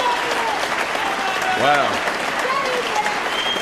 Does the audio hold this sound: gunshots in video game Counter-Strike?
no